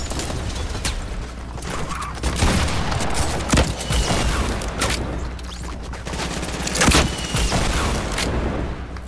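Constant heavy gunfire and blasts in a Fortnite match, with rocket launches and explosions mixed into rapid shots and mechanical clatter, loud and unbroken throughout.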